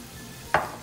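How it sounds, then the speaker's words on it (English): A short, bright hiss bursts up as vinegar hits a pan of hot onions, habanero peppers and bell peppers for escovitch, then decays quickly into a low sizzle. "We're gonna put the vinegar in also now."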